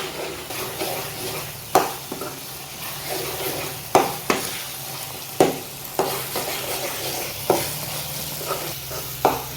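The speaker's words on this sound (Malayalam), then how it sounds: "ഇത് ഇളക്കി കൊടുത്തുകൊണ്ടിരിക്കണം, ഇല്ലെങ്കിൽ അതിൻ്റെ അടി കരിയും." Mushroom pickle frying in oil is stirred steadily in a pan, a continuous sizzle broken by a regular series of sharp scraping knocks from the stirring spoon, close and clear with no talk.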